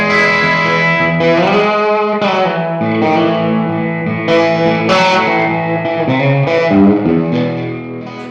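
Telecaster single-coil electric guitar rings out in bright chords and single notes, heavily colored with distortion and a shimmering chorus effect, playing alone.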